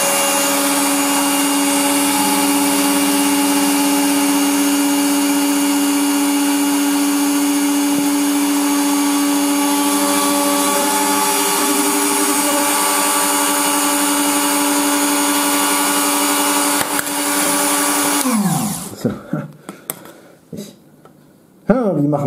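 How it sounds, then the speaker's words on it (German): Drill press with a clamped bit drilling a hole while assembling a light, a loud steady high whine that runs almost the whole time, then spins down abruptly near the end, followed by a few clunks. "Heißer Tipp für diesen Bohrständer, es ist echt geiler, wenn man den Bohrer einspannt, statt ihn nur reinzustellen."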